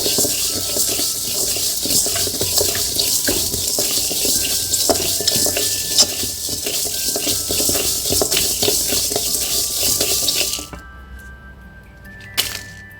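Drumstick leaf podi dry roasting in a pan, stirred continuously with a scraping, sizzling patter that runs steadily and close, then drops away near the end leaving a few faint clinks.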